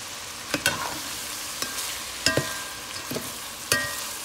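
Unseasoned ground meat sizzles steadily in a pan while a utensil scrapes and stirs it in a few sharp, irregular clicks and scrapes, close up with no talking.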